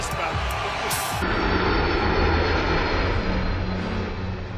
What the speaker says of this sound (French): Le Boeing 757 de Trump est tout aussi puissant que l'Air Force One du président, et encore plus luxueux